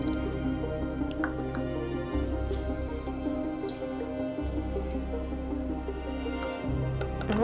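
Thin liquid trickles and drips through a small funnel into a bottle while homemade hand sanitizer is filled, soft close-up dribbling and intermittent drops over a low steady background.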